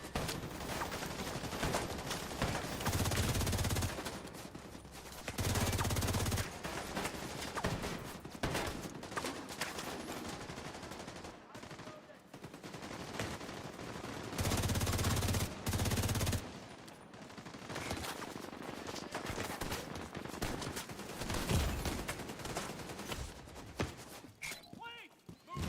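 Sustained machine-gun bursts from an enemy turret in The Division 2 hammer out repeatedly in long loud volleys separated by quieter gaps, with talk and game sounds in between.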